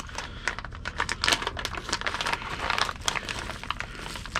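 Tiny plastic bags holding small parts from a camera cage unboxing, crinkled and handled up close in a busy, continuous rustle of quick crackles with no talk.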